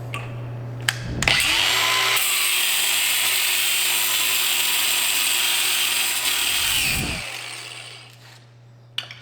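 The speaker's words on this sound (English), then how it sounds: "grab your trusty cutoff wheel, keep the guard in place, safety glasses, and we'll just slop the head of this bolt off" An angle grinder with a cutoff wheel slices the head off an old bolt on a 1969 McLaren M6GT replica, spinning up with a sharp high whine, holding a loud steady grinding screech for several seconds, then winding down, close and alone.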